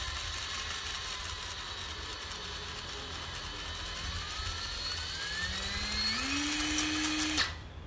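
Japanese cordless drill spinning during a speed-control test, its whine steady and then rising in pitch near the end before cutting off abruptly, heard close by with no talk over it.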